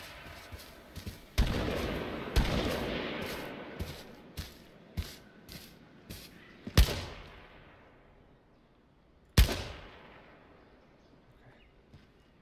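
Gunshots in the battle-royale game H1Z1 King of the Kill: a string of sharp, loud single rifle cracks spaced unevenly, some with long echoing tails, then two heavier isolated shots later with quiet gaps between.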